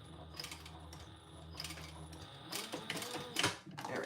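Home sewing machine stitching a fabric Traveler Pouch, a steady mechanical whir that runs in bursts with brief pauses, fairly close and alone without talk.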